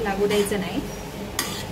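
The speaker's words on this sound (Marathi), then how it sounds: "एक वेळा मस्त मिक्स करून घेऊया आपण." Mushroom pulao rice is stirred in a pot, a short burst of close spoon scraping and soft sizzle while a person speaks over it.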